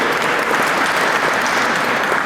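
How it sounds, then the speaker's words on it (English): Audience applause fills a gala hall in New York during a speech for the National Hispanic Business Group, a steady dense wash of clapping from a large crowd throughout, with no voices on top. "you can applaud that, absolutely."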